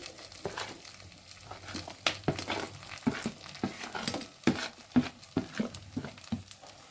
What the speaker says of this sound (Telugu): ఇప్పుడు ఈ మసాలా ఏదైతే ఉందో ఈ మసాలా వేసేసుకోవాలి